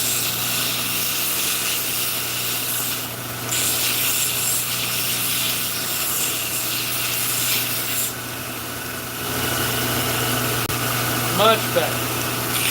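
Sanding or scraping on a wooden Bowie knife handle to round off its sharp edges, a close, continuous rasping rub with a steady mechanical hum beneath, broken by a few small clicks near the end.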